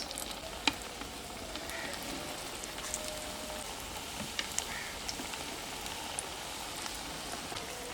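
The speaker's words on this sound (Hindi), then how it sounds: "लो फ्लेम पे ऑयल जो है उसको गर्म करना है और फिर इस तरह कबाब जो है वो ऑयल में डालने हैं।" Beef shami kababs fry in cooking oil over a low flame, a steady close-up sizzle with soft crackles and occasional sharper pops, no talking.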